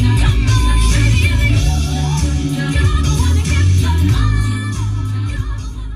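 Music plays loud and steady over a DAB radio inside a 2015 Jaguar XF 2.2d R Sport Black Edition, filling the cabin continuously without a break.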